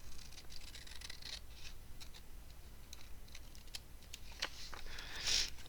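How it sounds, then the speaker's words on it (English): Scissors snipping out a small paper picture of leaves for a fall gluebook page, a run of soft, close clicks and crisp cuts at a steady pace, louder near the end, with no talking. "we'll cut this out as best we can"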